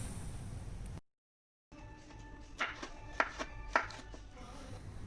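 Knife chopping mushrooms on a board for a mushroom masala curry, a few crisp, separate chops after a brief gap of silence, close and clear.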